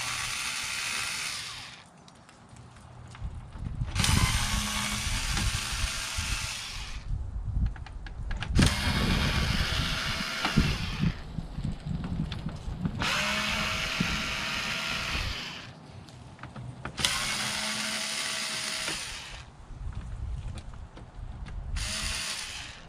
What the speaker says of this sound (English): with keyboards, the big thing is there's a lot of unscrewing to do